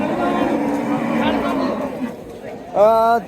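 A cow at a cattle market gives a loud, close, drawn-out moo at the end, after a stretch of lower lowing sounds and market background noise.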